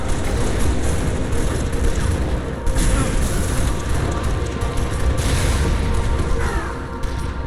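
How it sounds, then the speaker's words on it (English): Flood carrier form exploding in a Halo MCC mod, dense booms and bursts layered over constant battle noise, with sharp swells every couple of seconds and faint voices underneath. "the carrier form will just float over and explode"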